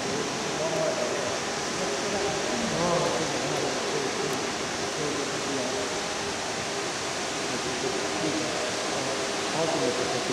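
Fukuroda Falls, a tiered waterfall, pours in a steady, dense broadband roar of rushing water that stays even and continuous throughout, close and fairly loud.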